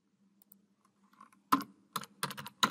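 Form details being typed on a computer keyboard: a few faint early taps, then a loud burst of clustered keystrokes in quick uneven bursts, close by and with no talking.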